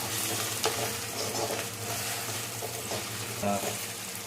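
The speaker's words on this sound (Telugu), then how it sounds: "నెక్స్ట్ అయితే నేను జింజర్ గార్లిక్ పేస్ట్ అయితే వేసుకుంటున్నాను సరే కదా ఇంత ఫ్రై అయిపోయి" Ginger garlic paste fries in a pan for a paneer and green peas curry, giving a constant loud sizzle with spoon stirring and scraping throughout and no talking.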